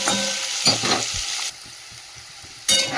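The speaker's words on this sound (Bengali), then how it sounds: "এদিকে ফুলকপির আলুটা ভাজতে দিয়েছি" Potato pieces for a cauliflower dish sizzle in hot oil, with loud bursts of frying that swell, drop to a quieter hiss for about a second, then flare up again near the end.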